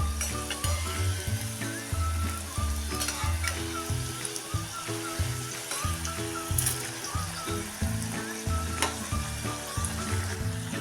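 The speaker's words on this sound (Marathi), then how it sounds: "आता एक बाजू तळून झाल्यानंतर ह्या अशा उलटून घेऊया" Marathi masala vadi pieces deep-frying in hot oil, with a dense, continuous sizzle and bubbling that stays close and loud, plus occasional light clinks as the pieces are turned.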